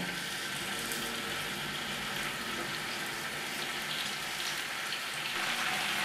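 Chicken yakitori skewers fry in hot vegetable oil on a grill pan, giving a steady, close sizzle and crackle that runs unbroken throughout, with no voices.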